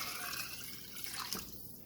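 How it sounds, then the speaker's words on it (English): Water pours from a tap into a cooking pot for Filipino chicken tinola, a soft, continuous splashing stream heard close and fairly quiet. "So now we're going to add 8 cups of water."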